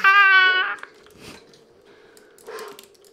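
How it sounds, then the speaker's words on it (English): A pet dog gives a loud, high, drawn-out whine or yelp up close, followed by quieter scattered snuffling and small mouth sounds, with a low steady hum running underneath. "Oh, that's your dog."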